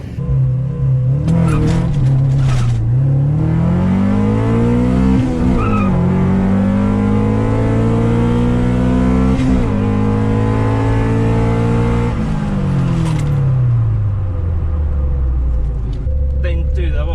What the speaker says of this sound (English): I revved it up a bit too much because it spun a lot coming off the line